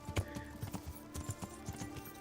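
Horse hooves trotting across fields, trees and flowers in Kingdom Come: Deliverance, a steady rhythmic clip-clop of close, fairly soft footfalls repeating for a couple of seconds.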